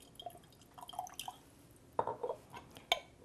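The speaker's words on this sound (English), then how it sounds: "get some white balsamic vinegar, add it to your jar" White balsamic vinegar is poured into an emptied glass jam jar, giving a few soft drips and small splashes against glass, close and quiet with pauses between them.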